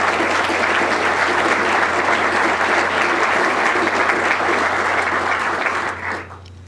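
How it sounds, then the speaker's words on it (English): Loud, sustained applause from an audience for a planning director and his staff at a NashvilleNext planning event, steady for about six seconds before thinning out abruptly at the end. "please give him and his staff a round of applause"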